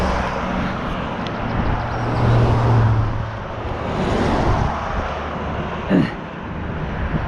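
A passing car rumbles along a neighbourhood road on a walking tour, a low steady roar that swells mid-clip and fades, heard close under outdoor ambience with a brief sharper sound near the end.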